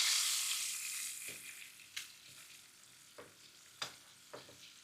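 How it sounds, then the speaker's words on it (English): Pork ribs browning in extra virgin olive oil in a large pan, a hiss that starts loud and slowly fades, broken by a few sharp spatters and pops. "I add the ribs and I brown them for about 10 minutes on all sides"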